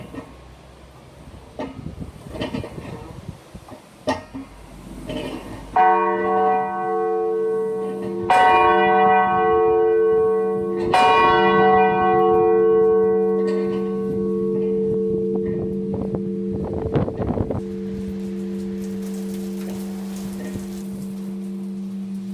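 A church bell in the Meeting House bell tower rings close and loud, several strong struck tones with long humming decays, following a stretch of shuffling and handling noise, then swelling again near the end.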